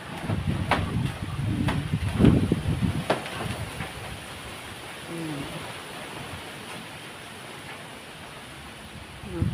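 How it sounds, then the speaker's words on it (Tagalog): Strong typhoon wind sweeping through a Taiwanese plantation of betel nut palms during Typhoon Danas, a steady broadband roar with gusty surges and rustling bursts early on, easing to a lower continuous rush. "Ay malalakas ang hangin."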